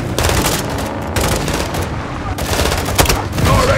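Rocket launcher fire and heavy gunfire in the Call of Duty Modern Warfare 2 campaign: a dense, continuous battle din of rapid shots and blasts, loud and close, with voices barely present.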